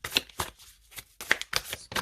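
Tarot cards slap and slide onto a table during a card reading, making a quick series of crisp, close papery snaps and shuffles.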